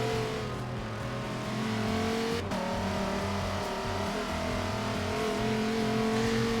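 A race car engine in Forza Motorsport 7 at the Hockenheimring accelerates hard out of a corner, a loud, steady high-revving whine climbing in pitch with a brief gear-change dip, heard close and alone.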